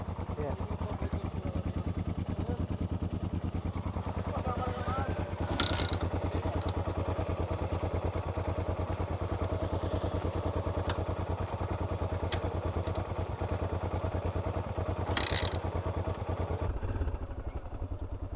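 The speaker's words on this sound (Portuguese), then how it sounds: "Abrir a torneirinha, senão a moto morre daqui uns metros." A 1988 Yamaha Ténéré motorcycle engine idles steadily and close by near the Brazil–Bolivia border, a continuous mid-pitched chug with occasional clatter, while people speak over it.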